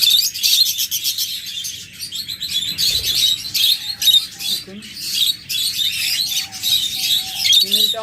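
Many caged birds in a bird shop selling breeding pairs chirp and tweet constantly, a dense, bright chatter of overlapping calls filling the whole stretch, with a voice faintly underneath at times.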